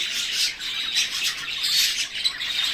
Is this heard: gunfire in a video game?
no